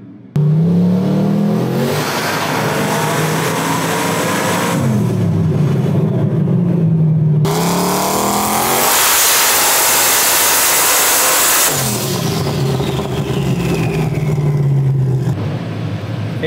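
Turbocharged small-block Ford, built for about 1,000 horsepower with Holley EFI, revs loudly on a dyno in repeated pulls: pitch climbs and falls, then it holds a long roaring full-boost pull with a bright turbo whoosh and winds down again.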